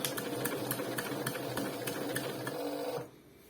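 A class 638 industrial bag-closing sewing machine stitches big bags, its loud, steady, rattling mechanical hum running for about three seconds before cutting off abruptly; no speech.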